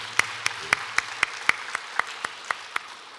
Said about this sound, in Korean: 자축 박수